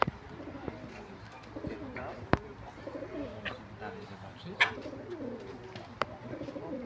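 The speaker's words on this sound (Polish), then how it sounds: "Patrz, co to za ptak." A brownish pigeon or dove coos softly in a family adventure park in Poland, its low calls repeating beneath faint outdoor ambience and occasional sharp knocks.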